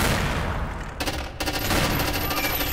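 Gunfire aimed at the player in a video game, a dense, loud barrage of rapid shots with a brief lull before the shooting resumes, close and continuous.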